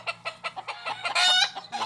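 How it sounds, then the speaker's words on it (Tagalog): Gamecock breeding stock, Kelso and Sweater fowl in a backyard pen, clucking in a quick series of short bursts, followed by one louder, longer crowing-like call near the end, close to the microphone and without talk. "Ito po yung mga manok ng boss ko."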